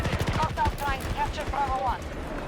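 Shotgun blasts in a first-person shooter video game, a quick run of sharp repeated shots under overlapping voices.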